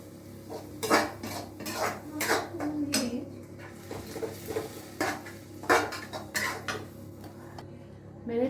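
Metal kadhai pan handled with a detachable extra handle, close clanks and scraping knocks of metal on metal in uneven bursts, with no talking.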